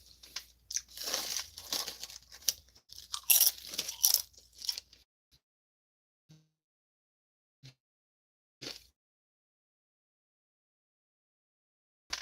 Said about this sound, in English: I'm just eating Doritos on stream.